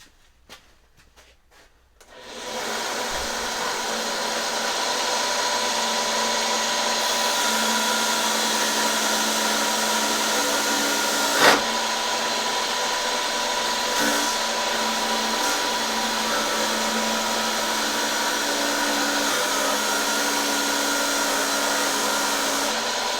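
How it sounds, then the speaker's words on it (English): A small electric sander works on wood for a junk-to-guitar build. It starts up after a few seconds of near silence, then runs as a steady, loud, even whirring hum with a few faint knocks. "Got my little sander over there."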